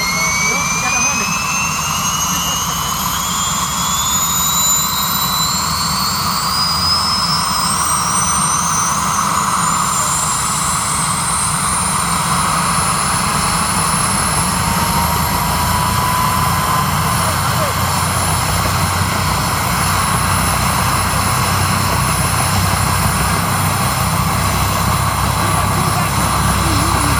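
A 1966 Huey helicopter's turbine engine whines loud and close during a ride, with a constant roar and high rising tones throughout.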